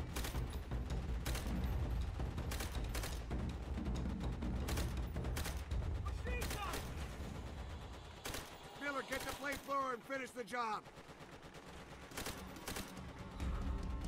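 Bursts of gunfire in Call of Duty: World at War as enemies at machine-gun posts near bunkers are shot, loud sharp reports in irregular clusters over rumbling battle noise, with shouted voices in between.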